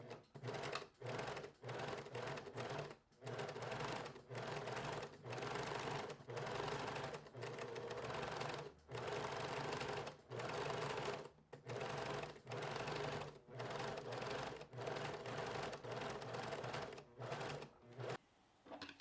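A sewing machine stitches around a garment collar in steady bursts, each run of fast mechanical whirring broken by short pauses, close and loud with no talking.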